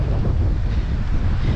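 Strong wind roars steadily across open water off the Valdez Peninsula, buffeting the microphone with a loud, continuous low rumble and no break throughout.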